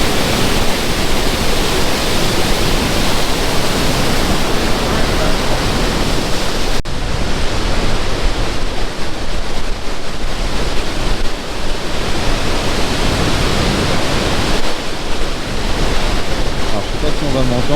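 A waterfall in Gaspésie, Québec, carrying wood debris down its fall, roars as a loud, steady, broadband rush close by for the whole stretch, with no break in the flow.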